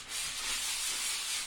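Hand sanding a painted finish gives a steady, airy scratching hiss, close up and continuous, with no voices.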